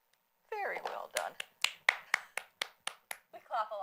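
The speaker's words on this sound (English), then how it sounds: "We clap a lot at Toastmasters" Applause from a small audience at a Toastmasters meeting: about ten sharp, separate claps in a loose, uneven rhythm, close by, with voices talking just before and after.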